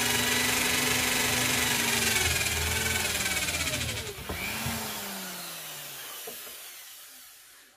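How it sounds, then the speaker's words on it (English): A power drill whirs loudly and steadily, its pitch shifting as it bites into aluminium, then winds down and fades out near the end. "now I've reversed the drill, sorry, not reversed it, put it in the correct direction so it can cut into the aluminium"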